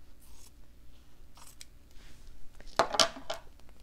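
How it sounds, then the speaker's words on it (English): Scissors cutting fabric: a few crisp, close snips cluster near the end after a quiet, rustling lead-in. "now I'm going to take my scissors and just cut off one edge"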